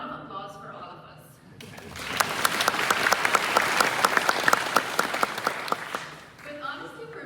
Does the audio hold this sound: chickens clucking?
no